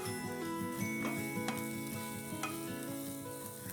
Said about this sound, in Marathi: तर आपण हा कांदा आता त्याच्यावर फ्राय करून घेऊया.